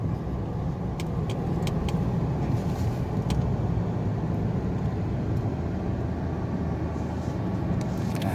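A Ford Ranger T6 pickup with a gear-position fault drives along, its engine and road rumble a steady, loud drone throughout with no talking.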